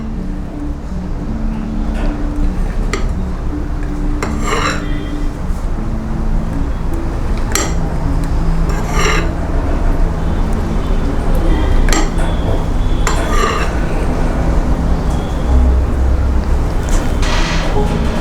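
Metal idli steamer pot and plates clink and clatter in scattered knocks over a steady background hum, with no talking.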